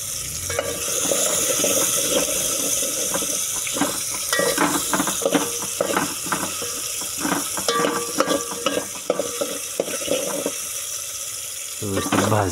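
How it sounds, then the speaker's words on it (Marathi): Chicken masala with tomato roasts in a pan over lowered heat, a steady sizzle broken by repeated scraping and clinking stirs of a spatula, close and busy. "व्यवस्थित भाजते आता ही."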